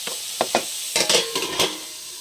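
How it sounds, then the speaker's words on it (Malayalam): Sliced onions sauté in a pan, with a steady sizzle broken by several sharp scrapes and clatters of stirring, close and fairly quiet, with no talk. "ഒന്ന് ഇളക്കി കൊടുക്കണം അപ്പം സവാള ഒന്ന് വഴണ്ട് വരട്ടെ"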